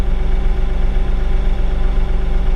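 A Bobcat tractor engine idles close and loud, a steady low rumbling drone with an even pulsing throb and no voices.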